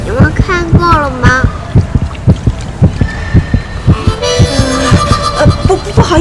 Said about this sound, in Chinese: 那个心跳声是我手机铃声